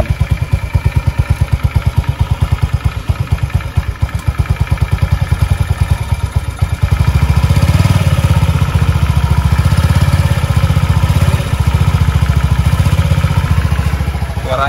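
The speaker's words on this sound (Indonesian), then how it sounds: "Suaranya kayak motor-motor Honda Matic lainnya sebenarnya." A small Honda automatic motor scooter engine idling close by with a rapid, steady putter that thickens and grows louder halfway through.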